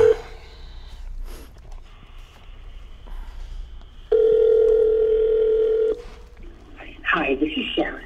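A telephone dial tone sounds over a speakerphone, a steady loud electronic hum held for nearly two seconds, with brief breathy noises and a burst of voice around it.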